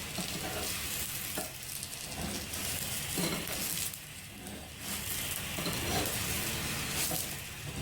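Punjabi aloo paratha, a potato-stuffed flatbread, sizzles loudly and steadily on a hot griddle, with the dense frying hiss carrying on unbroken and a few scraping movements mixed in, no voices over it.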